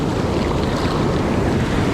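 Surf rolls onto a black sand beach on the Philippine coast, a dense continuous roar mixed with wind buffeting the microphone, loud and close, no voices.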